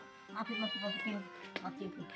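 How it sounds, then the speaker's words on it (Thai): A cat meows several times in drawn-out, wavering calls, fairly close, while people talk around it in a homely indoor setting. "ไมบ่ได้เอาอาหารแมวมาให้วิสีเนาะ"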